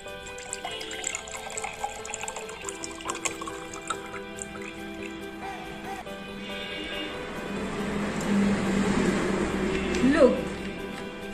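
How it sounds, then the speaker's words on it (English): Water is poured from a bottle into a glass until it overflows, a soft trickle that swells toward the end beneath a person talking. "Now let's pour this water in the glass."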